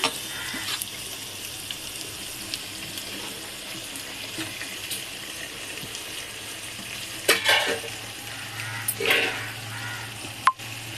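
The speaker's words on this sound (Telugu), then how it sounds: "ఓకే ఒక పది నిమిషాలు సిమ్ములో వేయించుకుందాం" A steady low sizzle of fish frying in oil, with occasional clinks and scrapes from a utensil, no talking.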